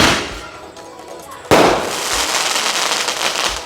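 A 12-shot fireworks cake goes off during a Vishu celebration. A loud burst is followed by crackling bursts and pops that keep sounding nearby.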